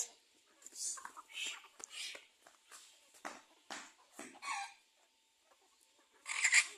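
Village backyard country chickens clucking and squawking in short, soft bursts at close range, mixed with quiet whispered talk, with a louder flurry at the end.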